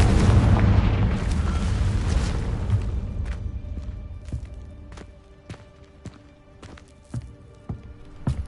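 In the Hogwarts Legacy video game, a Confringo blasting spell sets off a loud, rumbling explosion that fades over about three seconds. A series of sharp, separate clicks and thuds follows in the quieter stretch after.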